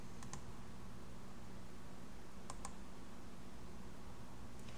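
Keys tapped on a computer keyboard while working in AutoCAD, two short bursts of quick, quiet clicks early and midway over a soft background hiss.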